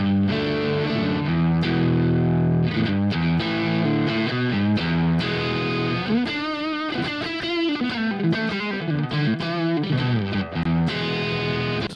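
Electric guitar through a tube amp, captured with a Two Notes Wall of Sound dynamic cab impulse response of a Marshall-style 4x12, playing loud distorted riffs with sustained chords and a wobbly, modulated stretch midway, steady and continuous with no talking.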